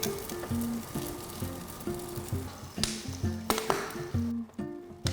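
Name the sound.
pork trotters sizzling while grilling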